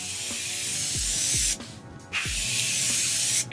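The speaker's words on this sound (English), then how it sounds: "This is my Morphe Continuous Setting Mist Spray." A Morphe Continuous Setting Mist sprays in a close, loud, steady hiss with soft pump clicks, pauses briefly, then releases a second long burst of fine mist.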